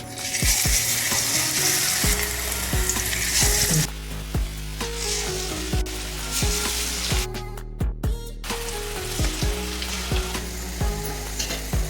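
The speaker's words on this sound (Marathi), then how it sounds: "मीडियम गॅसवरती छान अशी कुरकुरी तळून घेणार आहे" Onion bhaji fry in hot oil over medium gas, a bright bubbling sizzle that eases after a few seconds, punctuated by repeated sharp clinks and taps of a utensil against the pan, close and without speech.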